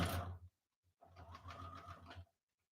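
A sewing machine stitches quilt triangles in two bursts, a short run followed by a longer steady whirring stretch with a rhythmic motor hum, close and moderately loud, with no talking.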